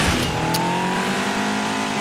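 A Chevrolet Camaro LT engine revs in the racing game Asphalt 9, a loud, sustained whine that climbs in pitch with faint tire noise in the background.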